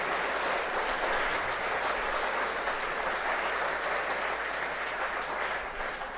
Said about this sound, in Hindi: एक बार जोरदार तालियों के साथ फिर से आपका स्वागत और सम्मान करें